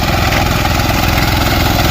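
A tractor engine running during wheat harvesting in a field, a loud, steady, close mechanical drone with a fast rhythmic low chug throughout.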